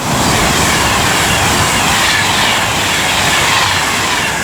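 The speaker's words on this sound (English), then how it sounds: "now approaching is 390-002, working 1 Hotel 65 from London Euston to Manchester Piccadilly" Class 390 electric train on the West Coast Main Line at Rugeley Trent Valley, running from London Euston to Manchester Piccadilly, approaching as a loud, steady rush of broadband noise with rail rumble that holds throughout.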